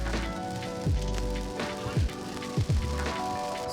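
Heavy rain pours down outside on a street in Korea, a dense, continuous hiss. Faint tonal background noise and a few brief swooping sounds sit underneath.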